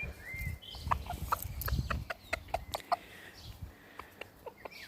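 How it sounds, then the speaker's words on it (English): Chickens on an allotment cluck and squawk while being fed. The soft, irregular clucks and sharper calls are close, along with some low rustling and handling noise near the start. "So I'm ready to feed these chickens now."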